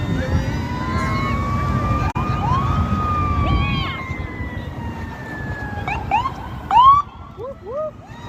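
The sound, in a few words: ambulance siren passing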